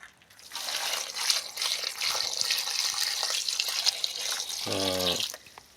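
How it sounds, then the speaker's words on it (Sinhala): Water splashes and trickles steadily into a container for several seconds, a close, continuous pouring sound that ends just as a brief voice comes in. "අපි දැන් මේකට වතුර ටික දාගමු."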